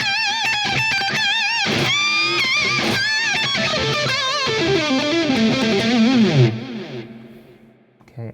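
A heavily distorted electric guitar plays chords and bending notes with effects, loud and sustained, then fades out near the end.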